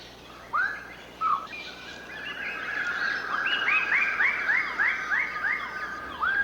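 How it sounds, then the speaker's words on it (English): Lesser birds of paradise display on a communal tree in a New Guinea forest, giving loud, clear whistled calls. Two single notes open the sequence, then a rapid repeated series of rising, bright notes follows, near and without voices. "These lesser birds of paradise are displaying on a communal tree."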